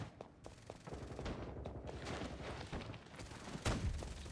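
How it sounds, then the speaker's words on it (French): Gunfire from the video game Farlight 84 crackles in rapid bursts from several directions, a busy fusillade of overlapping shots with a sharper blast near the end, heard at moderate volume. "Ça tire de tous les côtés là-dedans."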